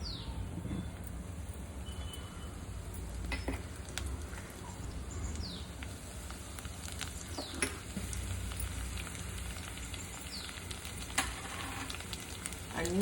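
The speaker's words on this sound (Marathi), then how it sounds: "4 चमचे तूप टाकते, त्याच्यात काजू बदाम वगैरे सगळं परतून घ्यायचंय." Almonds and cashews frying in about four spoons of ghee, giving a steady close sizzle with occasional small clicks and stirring taps throughout.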